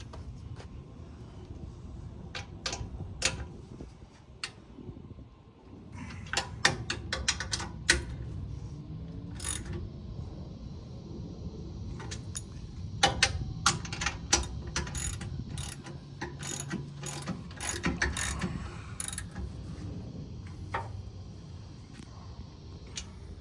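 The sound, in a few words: ratchet tightening down trailer electric brake bolts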